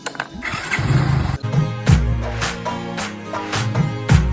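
A Yamaha R15 motorcycle engine cranks and starts, its close mechanical whir giving way to a low rumbling idle with uneven revving pulses and clicks throughout.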